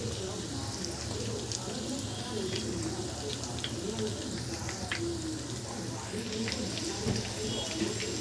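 Fish pieces frying in hot oil make a continuous crackling sizzle, with a voice speaking over it throughout.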